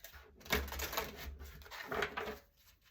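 Tarot cards being shuffled by hand, a soft papery riffling in two bursts with a quiet gap between, close and alone with no talk.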